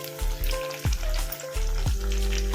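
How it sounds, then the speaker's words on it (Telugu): Chopped shallots sizzle in hot tempering oil with dried red chillies and seasoning seeds, a steady close frying crackle broken by several sharp stirring or ladle knocks. "చిన్నుల్లిపాయ తాలింపులో బాగా ఎర్రగా వేగితే చాలా రుచిగా ఉంటుంది"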